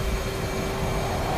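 Twin engines of an F/A-18F Super Hornet at full power in the DCS flight simulator give a loud, steady jet roar with a faint tonal whine, heard close and alone for a brief moment.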